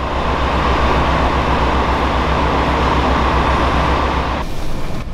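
Ai no Kaze Toyama Railway train pulling away from a station, a loud steady low rumble and rolling noise heard from on board, cutting off abruptly near the end.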